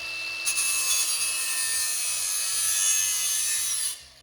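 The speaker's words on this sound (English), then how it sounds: "I'm just gonna cut this straight with a bandsaw to here" A bandsaw cuts steel exhaust tubing from a Magnaflow builder's kit for a custom Jeep exhaust. A steady, close, harsh grinding rasp runs for about four seconds with no talk, then stops abruptly.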